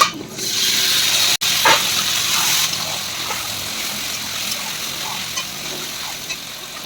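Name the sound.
marinated mutton added to fried onions in pan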